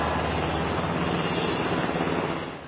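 A helicopter carrying freed hostages out of southern Israel drones steadily overhead, a loud, continuous rotor and engine roar that fades slightly at the end, with no talk.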